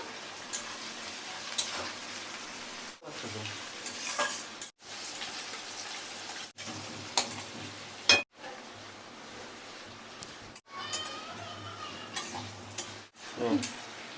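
Intermittent frying sizzle of onions in a pan, with stirring scrapes, broken by brief pauses, no talking.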